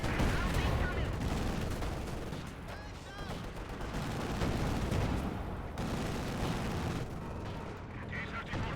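Company of Heroes 2 battle with a T-35 tank firing: dense, continuous bursts of gunfire and heavy artillery-like booms, rolling and overlapping for several seconds at moderate loudness.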